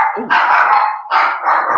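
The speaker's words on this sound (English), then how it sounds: "my dog." Pet dog barking loudly close by, two or three sharp barks in quick succession indoors, with no talking.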